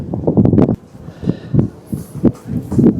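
Cold wind at -1°C on a mountain top near Bergen, Norway, by a cable car station, heard as a loud, steady low roar and buffeting against the microphone, with faint voices underneath.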